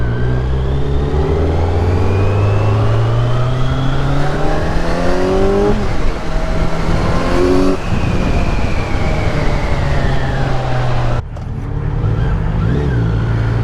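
A Kawasaki Z900 motorcycle accelerating hard in sport mode, its engine rising in loud, close revving sweeps through several gear changes with brief dips between shifts and a sharp cut before climbing again.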